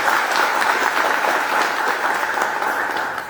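Sustained applause from a church congregation, dense and steady clapping filling the whole moment, fading slightly at the end.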